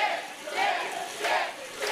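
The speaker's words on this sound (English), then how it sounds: "This crowd solidly behind Dick Lane with a stomp to the foot" A crowd at an independent wrestling show cheers and shouts in swelling waves, a dense roar of many voices rising and falling over a couple of seconds at moderate distance.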